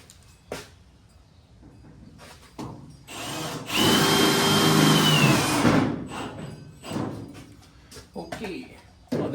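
A power drill drives a screw into a car quarter panel, whirring loudly and steadily for about two seconds in the middle with shorter buzzes around it, while people talk nearby.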